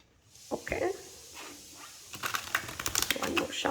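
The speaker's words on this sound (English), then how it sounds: "I'm giving it a good shuffle because we are using the same tarot cards in all three readings" A deck of tarot cards is shuffled by hand, a rapid fluttering riffle of many quick card snaps after a few softer handling sounds, close and fairly quiet.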